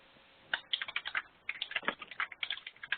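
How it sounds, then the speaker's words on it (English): Computer keyboard typing picked up over a phone line, a quick irregular run of light key clicks with short pauses, thin and bandwidth-limited like telephone audio. "I can hear that someone is typing"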